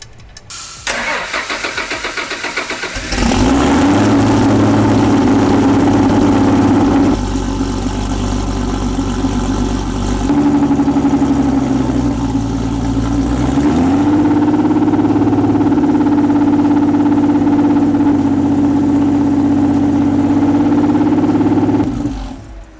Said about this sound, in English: when Mike started the car